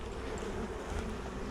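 A dense, steady buzz of many honeybees swarming close by at a hive being moved and split, faint but continuous with no pauses.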